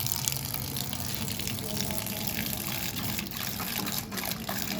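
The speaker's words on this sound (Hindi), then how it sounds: "इसमें तो आ रहा पानी।" Tap water running into a container, a steady broadband rush that continues throughout, fairly close, with faint speech in the background.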